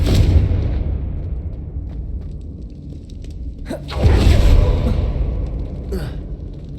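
Confringo fire spell blast in Hogwarts Legacy, a sharp booming explosion at mid-clip that decays over a rumbling game soundscape, with smaller bursts before and after and a voice nearby.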